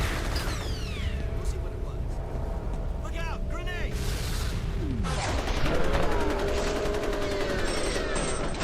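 Combat in the shooter F.E.A.R.: sustained gunfire and clattering shots with a heavier blast-like swell midway, dense and continuous, mixed with in-game voices and effects.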